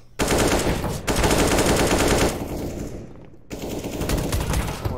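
Pistol gunfire in a Counter-Strike match on the Mirage map, loud rapid bursts of shots in dense volleys with brief gaps, close and aggressive.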